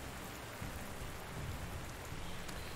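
Steady, dense rain hisses without a break in Panzer Corps 2 and fills the whole range at an even moderate level, with a faint low rumble beneath it.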